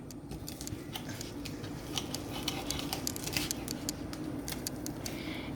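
Knife slicing beef sausage in half on a cutting board, a series of small crisp clicks and taps scattered irregularly over a few seconds against a low room hum.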